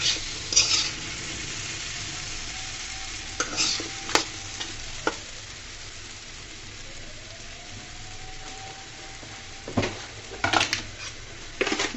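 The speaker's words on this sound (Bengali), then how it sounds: "আমগুলাকে আমি সুন্দর করে ভেজে দিলাম।" Mango pieces for a sweet and sour chutney fry in a pan, with a soft continuous sizzle beneath intermittent scraping clicks as a spoon stirs and knocks against the pan.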